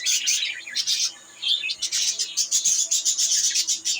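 Newly hatched bird chicks in a nest give rapid, high, thin chirps in bursts, close and fairly loud, continuing with only brief pauses.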